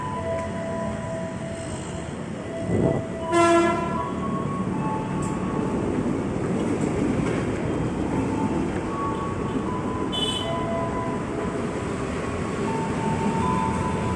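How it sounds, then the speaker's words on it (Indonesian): A commuter train bound for Kampung Bandan via Manggarai rumbles past steadily near a bus stop, with a continuous rolling roar and a few brief tonal squeals and clanks along the way. "si komuter tujuan Kampung Bandan via Manggarai"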